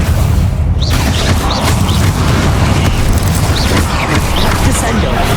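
Confringo blasting curses go off in loud, dense booming bursts amid the constant roar of spell combat in Hogwarts Legacy, with no clear gap of quiet.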